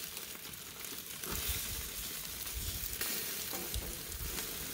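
BBQ chicken wings sizzling on a grill: a soft, continuous crackling sizzle with small bursts of popping and spitting, fairly faint and with no one talking.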